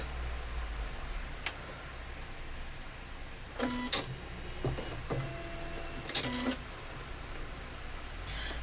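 A computerized embroidery machine stitches out a quilt block design, giving quiet mechanical whirring with scattered faint ticks and short motorized movements over a soft hum.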